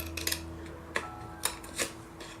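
Paper being cut for the third layer of an explosion box produces a few crisp, close snips and clicks spaced irregularly over a faint steady background hum.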